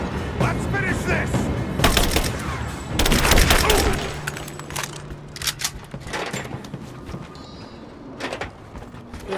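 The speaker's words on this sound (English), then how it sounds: "I'm taking fire!" Bursts of gunfire in Rise of the Tomb Raider, with sharp, loud volleys clustered early and scattered single cracks afterward, mixed with game voices talking.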